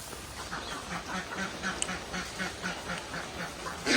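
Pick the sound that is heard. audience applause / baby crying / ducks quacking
ducks quacking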